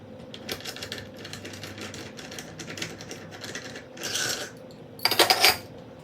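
A sock knitting machine knits a rib cuff with rapid clattering and clicking mechanical rhythms, fairly quiet and close, rising to sharper metallic rattling bursts toward the end.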